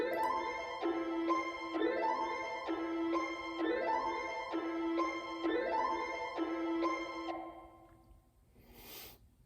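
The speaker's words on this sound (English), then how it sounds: "what I first started with was an accent from the Sound Lab kit, and it's like this crazy ARP." A crazy synth arpeggio accent from the Sound Lab kit, a fast repeating bright pattern cycling in regular bars, fairly quiet, then fading out near the end with a short noisy burst.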